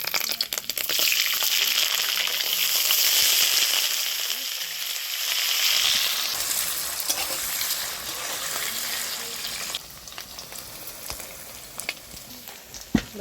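Cubes of Amul malai paneer fry in mustard oil in a pan, giving a continuous close hiss and sizzle that swells and then eases, with occasional stirring clicks and no voices.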